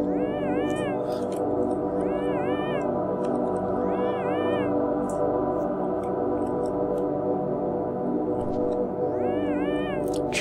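Repeated cat meows from the cat effect in the video game Yume Nikki, several short rising-falling mews in bursts over a steady musical background, no talking.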